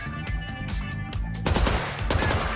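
Rapid bursts of automatic gunfire in the online shooter Deceive Inc., loud and close, with several stuttering volleys following one another.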